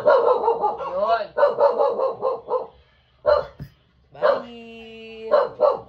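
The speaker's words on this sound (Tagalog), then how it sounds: "Tahol siya ng tahol. Nakikita niya yung mukha niya dun sa salamin." A dog barks at its own reflection in a mirror, loud and close, in rapid repeated bursts broken by short pauses, with a drawn-out whining tone near the end.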